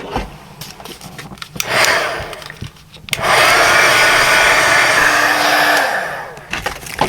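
A dryer blows over a book page coated with Mod Podge, starting with short bursts amid handling noise, then running as a loud, steady, close whoosh for several seconds before cutting off.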